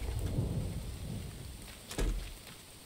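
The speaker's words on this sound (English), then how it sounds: "it's raining Miss Survivor" Steady in-game rain hiss with low rumbling thunder throughout and a sharper thunder crack near the end, from the survival game The Infected.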